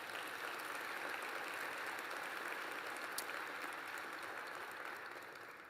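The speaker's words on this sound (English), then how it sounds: "Can we give him another round of applause?" An audience at a National Urban League plenary session applauds in a steady, even wash of clapping that holds for several seconds before tapering slightly, heard from a distance and fairly quietly.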